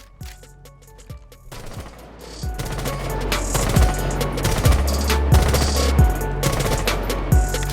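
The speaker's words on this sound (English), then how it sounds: "Next, we're going to go ahead and we're going to full auto each one of these." Full-auto gunfire from the video game Rainbow Six Siege: sustained rapid bursts of shots with sharp repeated cracks, starting lighter and building into dense, loud continuous firing.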